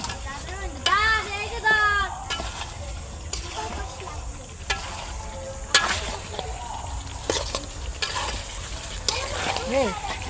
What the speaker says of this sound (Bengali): এখন মাংসটা দিয়ে ভালো করে কষিয়ে নেব